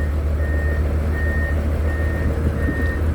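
A twelve-wheel truck moving with its reversing alarm beeping four times at an even pace over a steady, loud low engine rumble, with no speech.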